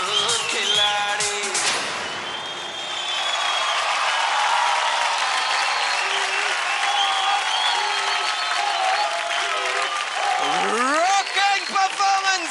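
Studio audience applause after a kids' dance performance on a TV talent show, sustained loud clapping and cheering throughout with a host's voice talking over it.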